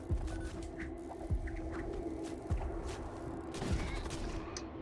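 Missiles firing in the space combat game Void War, heard as a few sharp launch bursts with descending low sweeps roughly every second, set over a steady mechanical hum.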